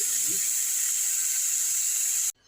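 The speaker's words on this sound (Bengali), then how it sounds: "চাল কুমড়োটা সর্ষে ফোড়ন দিয়েছি সর্ষে ফোড়ন শুকনো লঙ্কা দিয়ে করছি" Mustard seeds and dried chillies temper in hot oil for ash gourd, a loud steady hiss that cuts off sharply just before the end.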